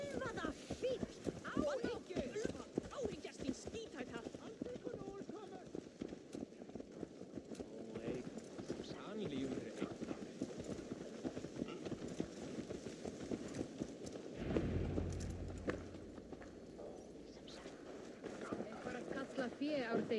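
Horse hooves clopping in Assassin's Creed Valhalla, a steady galloping rhythm running through most of the stretch under game music and ambience, with a louder low thump partway through.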